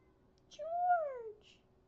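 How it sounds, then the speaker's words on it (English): A house cat gives a single clear, rising-then-falling meow, close to the microphone, in an otherwise quiet room. "Can you hear him meow?"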